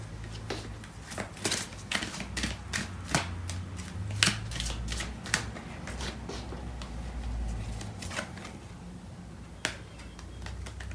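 Tarot cards are shuffled and drawn in quiet, close snapping and riffling bursts, a steady run of soft flicks and slaps repeating for several seconds with no talking.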